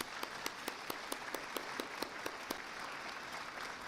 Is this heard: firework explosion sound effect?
no